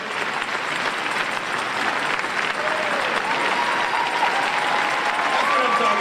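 A live audience claps and cheers together at a motivational gathering, steady dense applause with scattered whoops that holds loud and even throughout.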